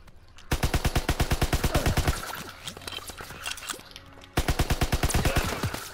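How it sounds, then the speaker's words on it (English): Call of Duty WWII machine gun fire rattles out in two rapid sustained bursts, loud and close, separated by a short gap filled with scattered game sounds and distant shots. "And we're playing with the machine gun."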